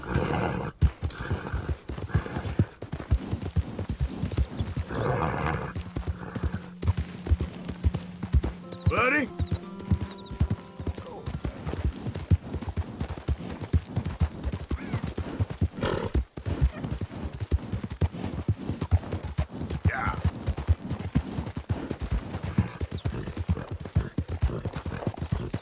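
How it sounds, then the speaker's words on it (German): A horse in the video game Red Dead Redemption 2 clip-clops steadily on the ground, a rapid, continuous run of hoof beats close up, with occasional snorts and a whinny, while someone talks in German over it. "Gutes Pferdchen."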